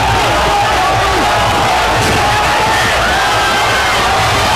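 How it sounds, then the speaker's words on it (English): A crowd at a kickboxing bout rallies behind the local favourite with a loud, continuous roar of cheering and shouting that fills the arena without pause. "You can hear the crowd rallying now behind the local favourite, Greg Foley."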